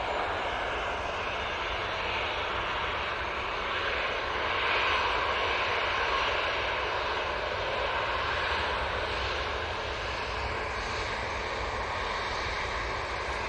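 An airliner heads out on its takeoff run at Manchester Airport, engines giving a steady, moderately distant roar that holds evenly with a slight swell midway.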